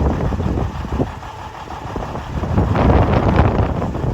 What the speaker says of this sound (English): with this 65-mile-an-hour wind, 40 to 65-mile-an-hour wind